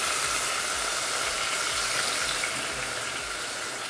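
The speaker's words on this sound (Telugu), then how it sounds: "ఎండు రొయ్యలు వేసి వేపండి బాగా." Dried prawns frying in hot oil, a loud, dense, continuous sizzle and crackle filling the whole span, close up and alone.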